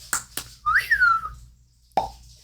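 A short, breathy whistle rises and wavers once, framed by a few clicking lip pops before and after.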